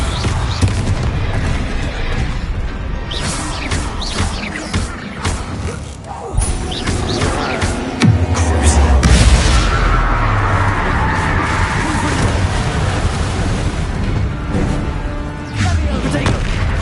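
Explosive spell blasts from the Bombarda charm in Hogwarts Legacy hit as dense booms and crashes amid constant battle noise, with a heavy low thud near the middle and shouted voices throughout.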